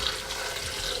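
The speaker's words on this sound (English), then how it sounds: "I am going to toss in some water." Water is poured into a blender holding cashews and dates, a steady splashing rush that fills the whole short moment, moderately loud and close.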